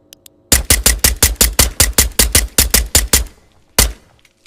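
A suppressed gun fires in the video game Ghost of Tabor, about fifteen loud, evenly spaced muffled shots in a rapid string, then a short gap and one last shot.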